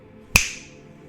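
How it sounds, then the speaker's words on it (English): A single crisp finger snap rings out close and clear in a quiet room, then decays quickly into silence. "and then snapping my fingers. Like this."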